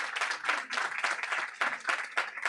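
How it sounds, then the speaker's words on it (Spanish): Applause rises from the audience at a regional dialogue event in Norte de Santander for a woman named Juanita, a lively, uneven burst of hands clapping in waves that fills the whole clip. "Yo sí quisiera un aplauso muy especial para Juanita,"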